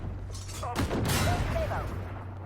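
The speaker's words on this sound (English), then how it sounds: "Putting shots into the XM1." Video game gunfire pours into an XM1 tank, a dense broadband volley of shots and impacts swelling in the middle over a steady low engine drone, with no talk.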